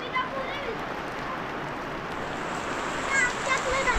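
Steady rain pours during a sudden Konkan downpour with wind, a dense even wash of water noise, while people talk and children's voices rise over it.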